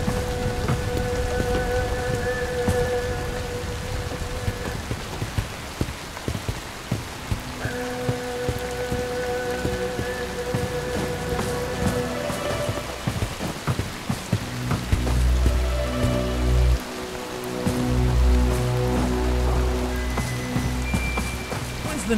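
Steady rain pours throughout a stealth section of the video game Bright Memory: Infinite, with soft distant thunder rumbling beneath and a few heavier low thuds near the end; no one speaks.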